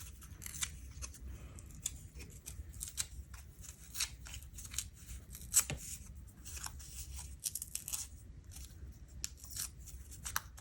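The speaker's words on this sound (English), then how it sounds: "Let's tear some of this off." Paper being torn by hand while making a craft tag, a close, steady run of crisp ripping and rustling bursts throughout.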